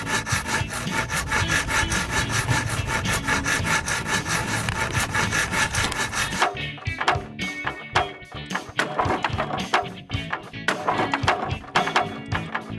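Wood being sawn with a hand saw in a play setting, a dense steady rasping that runs continuously before breaking into choppier, more separate strokes in the second half, close and loud with no talk.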